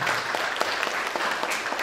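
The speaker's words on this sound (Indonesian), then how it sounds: "Oke, tepuk tangan untuk adik-adik kita ini ya." An audience at a work-culture lecture in Surabaya claps in a short burst of scattered, overlapping handclaps that is brief and moderately loud.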